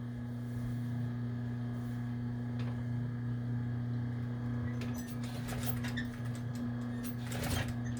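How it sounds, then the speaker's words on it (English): A sewing machine stitches elastic into the armhole corner of a fabric Lady Liberty costume. A steady motor hum runs throughout, then rapid needle clatter picks up in the second half, close by and without talk. "We're going to stitch our elastic right in that little corner."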